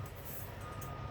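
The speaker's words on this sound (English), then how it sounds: "My warning light and buzzer came on at 75 psi in my primary" Continuous warning buzzer from a truck's low air pressure alarm during an air brake check, a steady harsh drone over engine noise with no talk.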